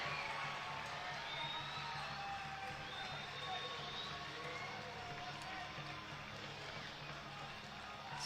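A soccer crowd at an FC Tulsa vs. Lexington SC match roars continuously and evenly across the stadium, with faint speech under the noise.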